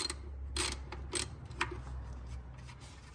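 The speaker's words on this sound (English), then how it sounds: "I'm going to go ahead and take these bolts off" Small metallic clicks and ratcheting as 10mm bolts are loosened from the intake of a 2014 Dodge Journey 3.6 engine, a few sparse, faint ticks close by in a quiet garage.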